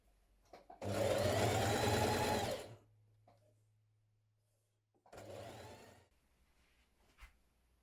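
Sewing machine stitching a double fold hem on a Vogue 9075 dress, two bursts of steady whirring, the first about two seconds and the second shorter, with a low motor hum lingering between and no talking.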